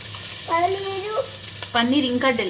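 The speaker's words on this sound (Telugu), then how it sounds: "ఇప్పుడు మనం చాలా చాలా డెలికేట్ గా కదిలించాలి" Tofu fried rice is gently stirred in a frying pan, with a low, steady sizzle beneath a voice, which is the most prominent sound.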